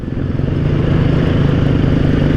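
A Honda CB500 motorcycle engine runs steadily close by, a loud continuous low throb with a rough, clattering texture and no voices over it.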